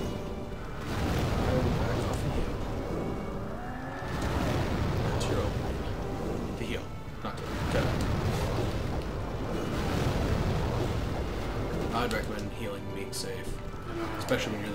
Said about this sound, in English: Now he's trying to chain together explosions.